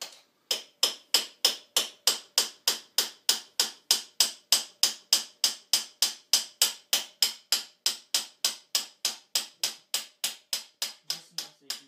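Steady, evenly spaced metallic hammer taps, around three per second, continue for several seconds, close and sharp, with no talking, as a shaft is gently knocked out of a 2013 KTM 250 SX motocross engine.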